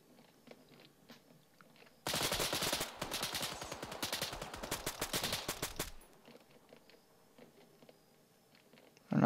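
Squad gunfire in the shooter game Pointman: a sustained burst of rapid, loud overlapping shots lasting about four seconds, with dense crackling reports, then quieter sparse sounds afterward.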